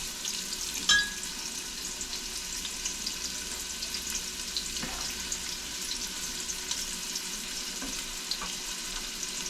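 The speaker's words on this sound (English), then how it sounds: "I have some oil heating in the pressure cooker. I'm gonna start adding my onions and garlic and stuff." Onions and garlic fry in hot oil inside a pressure cooker, a soft, steady sizzle running on after a sharp clink at the start, with faint scattered knocks and no voices.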